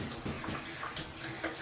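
Cold water runs from a tap in a shower, a steady soft splashing hiss that continues without pause.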